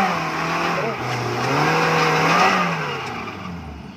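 An off-road vehicle's engine revs hard as it accelerates up a steep hill during an extreme off-road climb, a loud, sustained, rising and falling roar heard close up with a voice faintly underneath.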